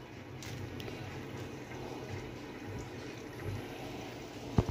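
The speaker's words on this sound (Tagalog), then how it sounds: "I-start na lang natin siya para siya maglagay ng tubig" A Midea MA200W85 automatic washing machine fills with water as a soft, steady rush, quiet and even throughout, ending with a brief sharp knock.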